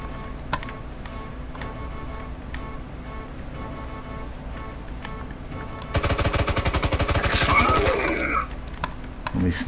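Rapid automatic gunfire in the retro indie horror shooter Rabbit-Man 3D, a fast rattling burst lasting a couple of seconds after a stretch of low ambient game noise, loud and close.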